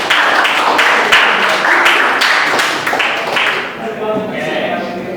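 A classroom group claps for the winning teams in a lively, uneven burst of hands that fades gradually, while people talk over it.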